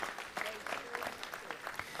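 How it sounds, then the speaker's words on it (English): Applause from the audience at a city council meeting honoring a youth baseball team, a dense, fairly soft patter of many hands lasting a couple of seconds. "let's go ahead and give them a round of applause"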